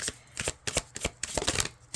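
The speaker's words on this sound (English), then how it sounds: "I was actually shuffling." A deck of tarot cards being shuffled by hand, quick crisp riffles and flicks in close, uneven bursts with no talking.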